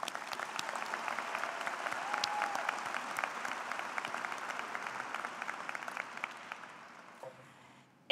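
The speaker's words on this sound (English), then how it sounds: "let's give them a round of applause" An audience at a spring college commencement ceremony claps for graduates' friends and families, a broad, sustained round of applause that gradually thins and fades toward the end.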